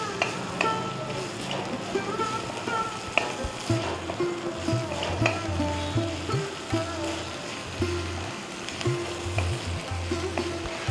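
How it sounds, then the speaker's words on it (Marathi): Fresh green peas sautéing in a pan over medium heat for samosa filling, a steady sizzle broken by repeated stirring scrapes and clinks, with faint background voices. "तो छान असा परतून घेऊयात. गॅस मीडियमच ठेवा."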